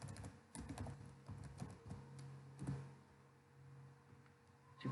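Keys clatter on a computer keyboard as a search is typed into Google, a quick irregular run of light taps at moderate level over a faint low hum, with no voices.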